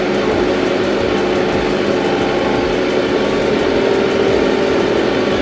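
A loud, continuous tractor engine drone with a dense, rough texture, steady throughout without pauses, heard up close while plowing a grain corn field.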